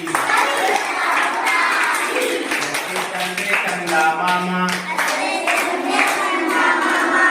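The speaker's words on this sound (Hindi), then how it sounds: "बजाओ ताली" Children clap their hands together in rhythm while singing a Hindi rhyme in a group, the claps sharp and steady under their chanting voices.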